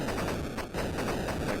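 Rapid shooting in the Spider Fighter video game, a dense, continuous rattle of electronic blips firing in quick succession, loud and close.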